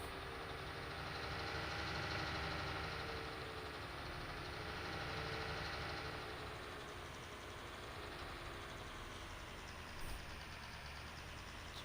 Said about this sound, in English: I cannot drive these tractors properly